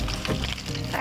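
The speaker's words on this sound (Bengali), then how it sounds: "মাছটা আমরা ভেজে তুলে নেব।" Tengra fish sizzling in plenty of hot oil, a dense crackling fry that holds steady and close for about a second.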